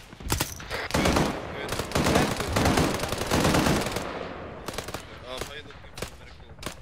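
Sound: machine gun fire in the video game ARMA 3

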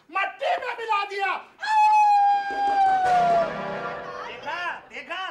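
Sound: man imitating a dog howling

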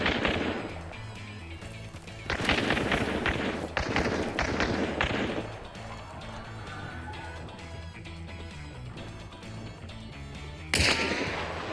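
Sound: gunshots in a video game

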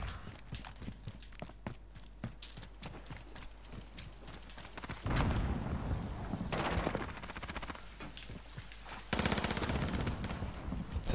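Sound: gunfire in Call of Duty video game

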